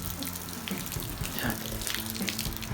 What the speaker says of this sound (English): Now I've flushed the mast out with a bit of fresh water.